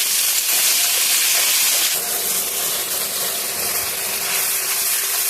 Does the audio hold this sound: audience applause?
no